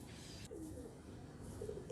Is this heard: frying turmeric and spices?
no